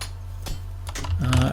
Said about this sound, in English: I think this keyboard is going to be very loud and clicky for playing this